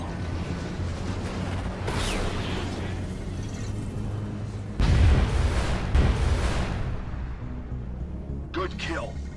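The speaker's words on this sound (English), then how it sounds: "Missile launched." A missile launches in the Star Citizen game, with a heavy boom partway through under a steady engine drone, then a second thump and fainter crackling bursts near the end.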